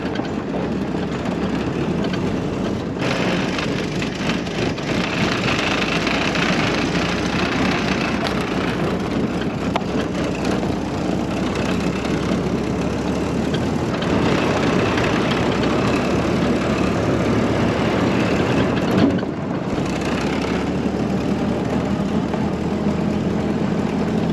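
A historic Ford Willys Jeep engine drones steadily while the vehicle is driven outdoors, with a continuous low rumble and wind noise holding at an even level and only small surges. No one speaks.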